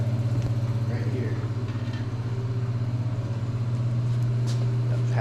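A Detroit 16V71 sixteen-cylinder diesel, pulled from a generator, runs steadily with a deep, even low throb close by, and voices are faintly heard over it.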